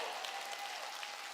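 A church congregation claps together during a sermon, a steady, dense wash of applause at moderate level with no break across the short stretch.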